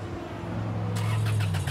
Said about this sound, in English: Ah, remote start.